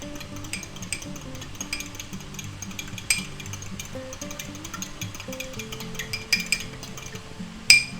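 A fork stirring soy sauce and cornstarch in a small dish, light rapid clinks and taps against the container, fairly quiet, with faint background kitchen noise and no talk.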